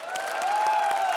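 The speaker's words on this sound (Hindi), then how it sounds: "तो जोरदार तालियों के साथ स्वागत कीजिए" A brief patter of audience clapping greets performers arriving on stage at a comedy show, heard under a steady sustained musical tone.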